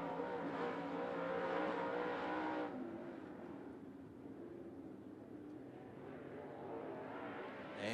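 A limited late model race car laps 411 Motor Speedway, its engine roaring loudly through the first few seconds, then dropping to a steadier, more distant drone as the car moves around the track.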